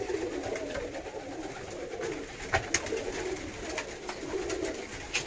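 Birmingham Roller pigeons coo steadily inside a loft, a soft, continuous, overlapping burble from many birds close by, with a few brief knocks and flutters.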